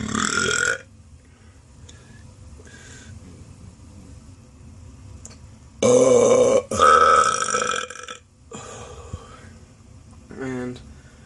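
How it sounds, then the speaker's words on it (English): Burps made on command by a man, several loud, drawn-out belches in separate bursts with quiet gaps between, the longest near the middle and a shorter one toward the end. "I'll be burping on command."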